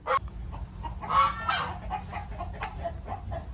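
Chickens cluck and squawk on a farm, steady close clucking throughout with a louder burst near the start, over low background noise.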